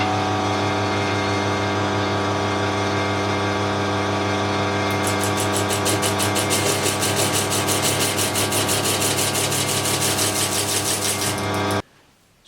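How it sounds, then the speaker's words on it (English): A bobbin sander shaping a wooden guide for a bandsaw build runs as a loud, steady motor hum with a constant whine, then pulses with rhythmic rasping as wood is pressed against the drum, before cutting off abruptly at the end. "So I've used the bobbin sander to create my guide from the guideline"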